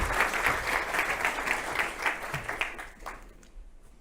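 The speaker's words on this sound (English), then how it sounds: "give Natasha and the rest of the panel, please, a show of your appreciation with a round of applause." Conference audience applauding a cybercrime panel at a compliance officers' event, a full round of clapping from many people that tapers off toward the end.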